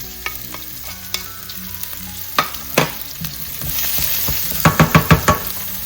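Garlic and onion sauté in a pan for pork liver adobo, a soft sizzle building under repeated sharp scrapes and taps of a utensil stirring against the pan, close by.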